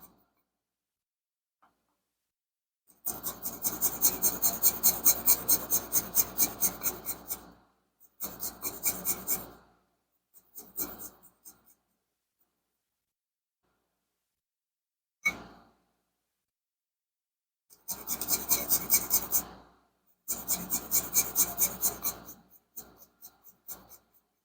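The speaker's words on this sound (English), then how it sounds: "So I'm going to keep grating." Garlic is grated by hand for a roast chicken dinner in long runs of fast rhythmic rasping strokes, loud and close, broken by pauses and a few short tapping bursts.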